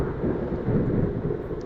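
A thunderstorm from a Minecraft weather mod rolls as a low, continuous rumble of thunder with a steady rain wash, moderately loud and unbroken throughout.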